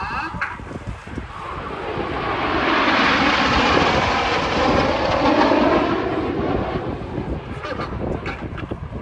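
Red Arrows jets fly past at an air show, a loud broad engine roar that swells to a peak mid-pass and slowly fades as the formation moves away, with no talk over it.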